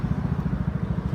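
A Yamaha NMAX scooter engine close by on a Metro Manila street, a steady low throbbing putter with a fast even pulse and no talk over it.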